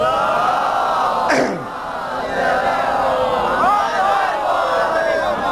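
A crowd at a Shia religious gathering in Kanodar, Gujarat, roars a loud, sustained collective slogan, a dense wall of massed voices that swells and rises in a sharp burst near the start before holding steady throughout.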